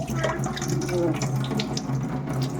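Tap water runs steadily into a sink while kola fish are washed, a constant close splashing flow with faint clinks and brief voice-like sounds in the background.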